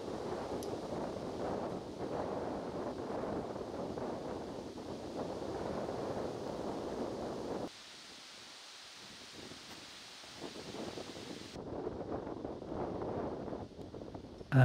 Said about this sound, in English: And extremely strong left to right wind.